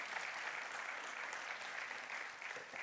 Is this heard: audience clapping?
yes